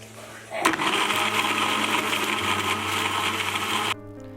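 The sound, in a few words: blender mixing guava juice with ice cubes or ice water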